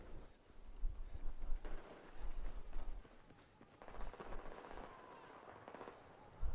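Gunfire from a SCAR-H battle rifle in a Battlefield 4 multiplayer hardcore match, heard as scattered bursts of rifle shots with uneven gaps, fairly close, plus a dense stretch of shooting near the end.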